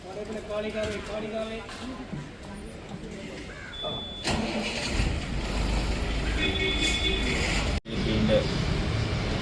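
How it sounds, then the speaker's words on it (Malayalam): A PPS bus engine starts at a bus stand in Porur during a charity run, with a steady loud mid-range rumble taking over partway through after voices and crowd murmur. "പി പി ഷംസുദ്ദീൻ എന്ന മാനുവിന്റെ പി പി എസ് ബസ് കാരുണ്യയാത്രയിൽ ഓടുന്നത്"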